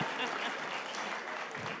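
Brief, steady applause from an audience at a Dublin benefit concert for a singer, dense clapping throughout with some speech faintly mixed in.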